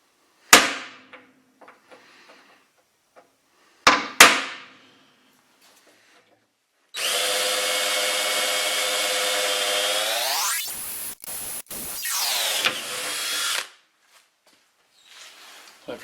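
An electric drill bores a hole through a metal switch box for a slab saw switch, a loud whining run of several seconds that slows, stutters and resumes, after a couple of sharp metallic clanks and taps.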